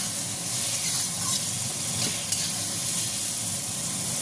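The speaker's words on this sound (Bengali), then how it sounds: "দিয়ে আমটাকে একটু নেড়ে নেব।" Mango pieces being turned with turmeric in a pan for mango and pea lentil dal, a faint, steady hissing sizzle with a single soft scrape partway through.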